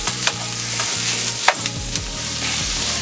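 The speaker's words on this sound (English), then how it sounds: "next we're going to add our ground beef to the onions. We're going to brown this off." 80-20 ground beef browning with onions in a pan for chili sauce, a steady close sizzle with a few scrapes and stirring knocks.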